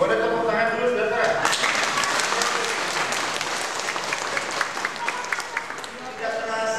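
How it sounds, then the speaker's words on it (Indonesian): A church congregation breaks into steady, loud applause that carries on for several seconds, with a voice heard briefly at the start and end. "boleh tepuk tangan dulu"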